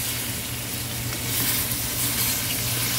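Dried salted white fish sizzles in a frying pan, a steady, dense crackle of hot oil heard close and continuously with no talk over it.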